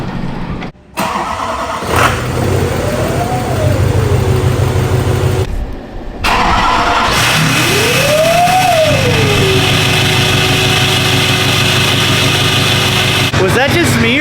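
A Duramax diesel truck with an RDS 9-blade turbo and straight exhaust revs twice, each rise ending in a high rising turbo whistle that settles into a loud, steady close idle; voices talk briefly over it.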